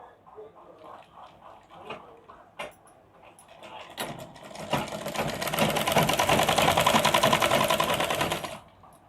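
A sewing machine stitches a half-inch seam along the edge of a lined blouse, starting after a few seconds of handling and low talk, then running steadily and loudly for about five seconds before stopping.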